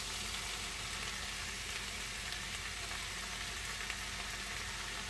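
Steady, even sizzling of chana masala ingredients frying in a pan, a continuous crackling hiss with no talking.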